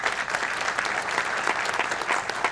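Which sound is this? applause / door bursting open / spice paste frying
applause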